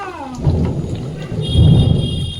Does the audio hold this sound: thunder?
yes